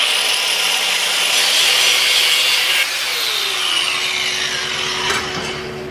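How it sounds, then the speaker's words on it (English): A 4-inch angle grinder cuts motor slots into steel for a belt grinder build, a loud continuous high whine and grinding rasp that dips slightly in pitch and level as the disc bites, with no talking. "get our 4-inch grinder, and we're going to start working out 2 slices here and 2 over here"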